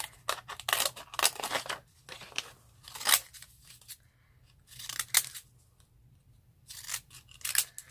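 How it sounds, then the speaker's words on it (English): Scissors snip through paper to trim a papercraft tag, close-up bursts of crisp cutting in irregular clusters separated by brief quiet pauses. "again I'm just going to cut around just leaving a smallish border"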